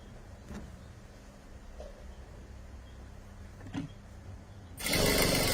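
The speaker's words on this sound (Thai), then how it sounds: "เย็บไปเลย" A sewing machine stitches a bag flap with a steady, low mechanical whir and a few faint ticks, ending in a louder, rougher burst.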